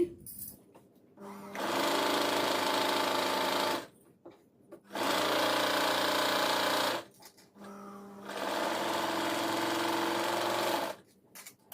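A sewing machine stitches blouse sleeve and side seams in three sustained bursts of rapid whirring, each a few seconds long with short quiet pauses between, close and clear.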